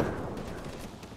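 Gunfire in the video game Operation Flashpoint: Red River, with dense overlapping shots and rumbling battle noise filling a short, steady-loud stretch.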